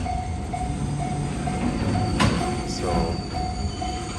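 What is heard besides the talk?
freight train passing in Japan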